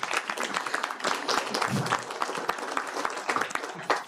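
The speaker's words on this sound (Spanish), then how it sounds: "denle otro aplauso y pídanle más" Audience applause at the presentation of version 1.1 of a national digital platform, a dense, sustained wash of many hands clapping close and loud for the full length, with no voices over it.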